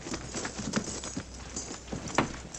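Hooves clip-clopping on hard ground, several cavalry horses at a walk, irregular steady beats at moderate distance with no talking.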